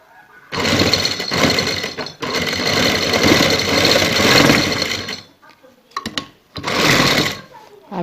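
A sewing machine stitches a trouser hem in loud, steady whirring bursts, stopping briefly between runs, close up.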